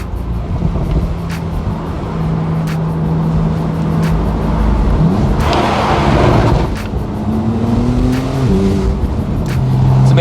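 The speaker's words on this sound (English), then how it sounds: "you get those lovely pops and bangs when in sport mode. Let's have a listen to over this tunnel here." A Porsche 991.2 Carrera S in sport mode drives through a tunnel, its engine note rising and falling with gear changes and a few sharp exhaust crackles echoing off the walls, loud and close, no talk.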